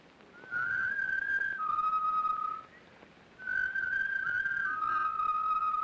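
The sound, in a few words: person whistling a secret signal whistle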